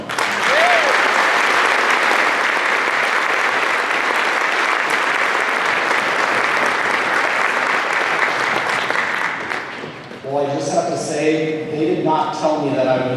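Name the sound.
audience applause welcoming a speaker at a closing ceremony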